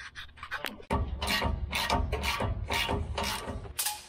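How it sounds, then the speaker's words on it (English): A ratchet cranks the torsion key bolt on a truck to tighten the torsion bar, giving loud, close, rhythmic clicking and grinding strokes in quick succession for several seconds. "you're just going to crank up this bolt, making it tight, and that will crank up the torsion bar."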